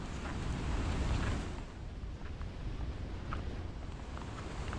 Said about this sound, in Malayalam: ഇവിടെ നിന്ന് അങ്ങോട്ട് കയറിക്കൊണ്ടിരിക്കുക തന്നെയാണ് കടൽ.